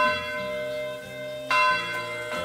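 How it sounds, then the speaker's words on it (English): A church bell rings in Kingdom Come Deliverance 2, its sustained metallic hum struck loudly once and then again moments later, ringing out alone and clear. "It's a bell."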